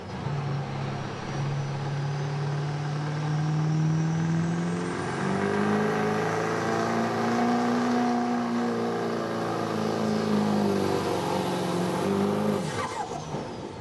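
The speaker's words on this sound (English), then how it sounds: "So rounding out the class here tonight is going to be a Chevy 3500 driven by Pat Carfley." A Chevy 3500 open street diesel pickup in the hot rod class makes a pulling run at a truck and tractor pull, its loud engine roaring and climbing in pitch for about twelve seconds before cutting off.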